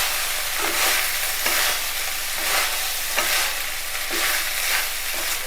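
Soaked, drained basmati rice stirred in a hot pan for black sesame rice: a continuous loud sizzle with regular scraping stir strokes roughly every second, close and steady.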